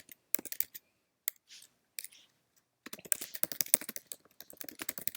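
Bursts of quick typing on a computer keyboard as a message is entered, with rapid close key clicks in short runs separated by brief pauses.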